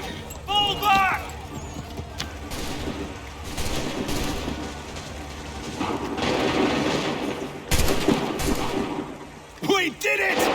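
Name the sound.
soldiers' gunfire volley in Assassin's Creed 3 video game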